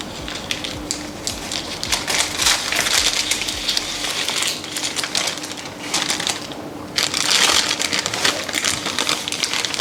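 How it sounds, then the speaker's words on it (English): Stiff keto puff pastry dough being cut in a kitchen gives crunchy, crackling crushing bursts that come in uneven waves, close and moderately loud, with no voices. "We are going to cut this puff pastry for now and then roll it out"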